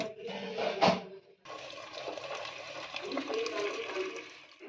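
Water splashes and gurgles as it is poured into a pressure cooker holding small new potatoes for alu dum, a soft, fairly quiet pour lasting a few seconds, with a person talking.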